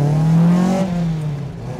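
An MGB GT fitted with a Duratec engine running motorcycle carburettors accelerates close by, its engine note rising in a loud, smooth pull before easing off slightly toward the end.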